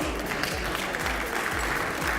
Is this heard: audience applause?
yes